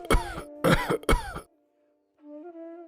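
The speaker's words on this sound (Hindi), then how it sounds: "उस रात बापू खाट पर पड़े पड़े खांसते रहे" An old man coughs harshly on a cot at night, three rough throaty bursts close up, followed by a faint low hum.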